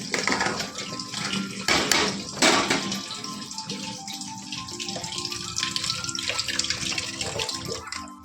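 Water runs steadily from a kitchen tap into a sink, a close, continuous splashing rush with a few clatters of pots and dishes near the start, no voices.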